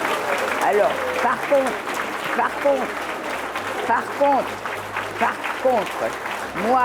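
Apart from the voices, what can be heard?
audience applauding teachers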